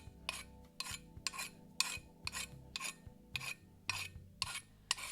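A hand deburring tool scrapes burr off a metal part in a garage, about nine sharp rasping strokes in a steady rhythm, close up and alone.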